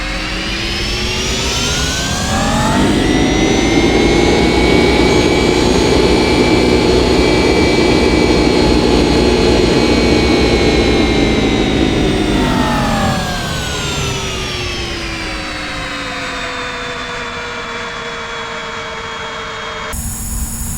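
Boeing 767-300ER jet engines in the X-Plane 10 flight simulator spooling up for takeoff, a loud steady whining roar with rising tones that holds and then eases back as the pitch falls.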